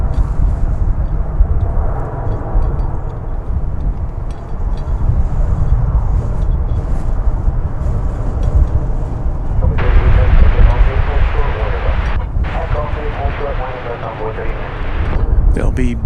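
Two airliners depart together from Dallas Fort Worth, their jet engines a steady, loud, rumbling roar that swells and thickens midway, with people talking over it.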